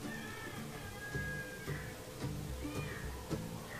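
A Siamese cat meows a few times at an animal shelter, the calls rising and falling over a busy room of background noise and muffled activity.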